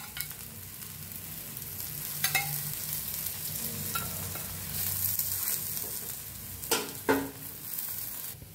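Corn flatbread frying in oil on a pan, a steady soft sizzle with occasional louder crackles and scraping touches, no talking.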